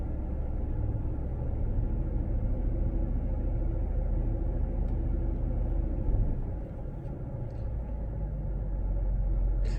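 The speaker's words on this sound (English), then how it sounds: "So I'm gonna power brake it again" Chevrolet Silverado with an 8L90 eight-speed automatic transmission being power braked, a low continuous engine rumble held at steady load that dips briefly and then returns.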